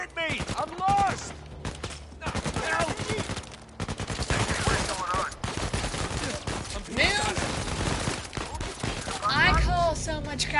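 Gunfire in the video game Uncharted 4, repeated shots and bursts under busy chatter and voices, with a dense, chaotic mix of combat noise throughout.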